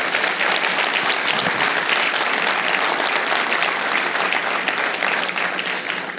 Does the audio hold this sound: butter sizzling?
no